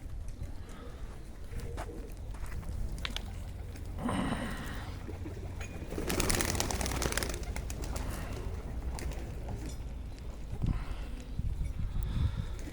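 Racing pigeons coo softly at a loft prepared for a pigeon race, repeated low throaty calls close by amid light rustling and occasional faint voices.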